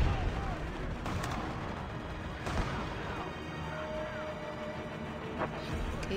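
Shots ring out in Call of Duty Mobile during a sniper clan-war match: a handful of sharp reports punctuate a constant, noisy game backdrop, moderately loud and spaced irregularly.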